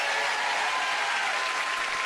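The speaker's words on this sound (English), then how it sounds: "Clapping." A live audience claps in a continuous, even wash of applause, fairly loud and steady throughout the short stretch with no talking over it.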